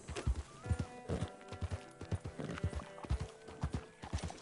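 Horse hooves clip-clopping in an irregular rhythm in Red Dead Redemption 2 online, with a short whinny; close and fairly quiet, no talk.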